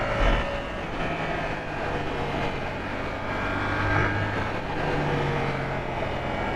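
Yamaha R7 motorcycle engine on a test ride, a steady droning hum with rising and falling pitch as the throttle changes, mixed with road and wind rush and no speech.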